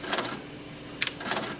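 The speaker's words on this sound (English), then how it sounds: "you'll get two taps for each time you push a key" A Royal Officemaster 2000 daisy wheel printer converted into a typewriter strikes in bold mode, each key producing two quick sharp taps; a pair comes early, then a few more taps follow after a quiet pause, in a quiet room.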